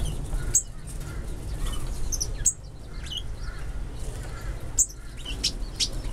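Finches in a home aviary chirp in short, bright bursts, with soft wing flaps and a steady background hum; no voices.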